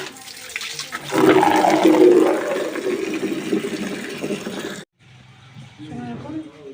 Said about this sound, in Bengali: এই বালতিটাতে জল নিয়ে নিই।